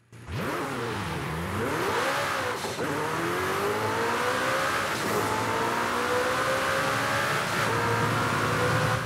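A 3.8-litre twin-turbo V8 in a 2018 ATS GT in Forza Horizon 5 revs hard and continuously, pitch sweeping up and down through gear changes, loud and close with a steady throaty roar throughout.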